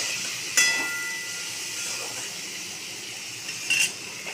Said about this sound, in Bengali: পেঁয়াজগুলো লাল করে ভাজবো।